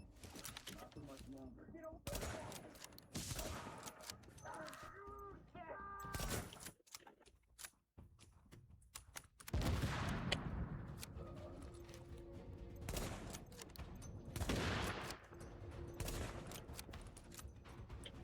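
Gunfire from a first-person shooter set in a New York subway station, bursts of shots crackling repeatedly with explosive blasts, loud and close, while a voice talks over parts of the fighting.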